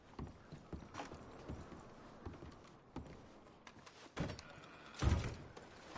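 In a video game, irregular hoof clops and shuffling thuds from horses moving nearby, with a few heavier knocks and creaks, fairly quiet overall.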